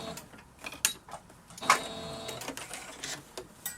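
Domestic sewing machine running short bursts of stitching, back and forth, with a quick mechanical whirring rattle and a couple of sharp clicks, close and fairly quiet.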